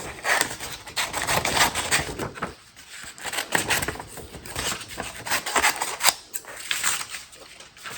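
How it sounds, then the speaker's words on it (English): Scissors cutting out a printed sublimation image on paper, a close series of crisp snipping and rustling strokes in an irregular rhythm, with faint handling noises between cuts and no talking. "Here is the image. So let's go ahead and cut this out."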